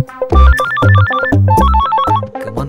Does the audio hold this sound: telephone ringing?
yes